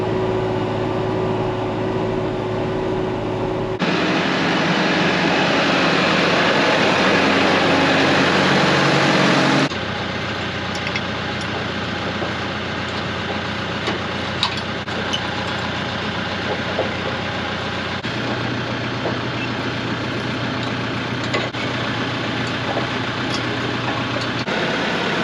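A farm tractor engine runs steadily, with a louder, rougher stretch early on before settling back to a constant low drone, close by and without talk.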